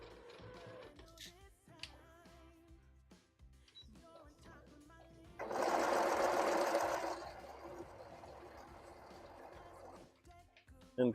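A home sewing machine stitches the seams of a Christmas stocking in a short, close burst of rapid mechanical whirring, set between quieter handling clicks and rustles of fabric.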